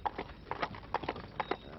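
Horse hooves clip-clop at a steady walking pace while the animal pulls a horse-drawn caravan along a road, a regular series of close, moderately loud knocks with no talking.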